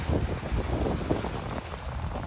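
A sailboat runs downwind on the mild Atlantic at 6 to 7 knots. Steady wind buffets the microphone, mixed with broad rushing water noise from the hull and waves, continuous and fairly loud with no talk.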